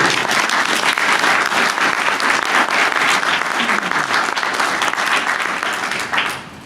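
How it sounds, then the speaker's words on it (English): Sustained audience applause fills a conference hall during a 2024 SIGGRAPH session on generative AI for graphics, a dense and steady wash of many hands that tapers off at the very end. "Let's applaud to all of that, because that is why we're here."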